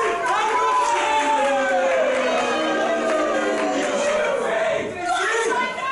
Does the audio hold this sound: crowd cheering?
yes